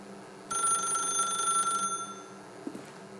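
A telephone rings in The Stanley Parable, a PC video game. One burst of bright electronic ringing lasts over a second and then fades into quiet background hum, with no voices.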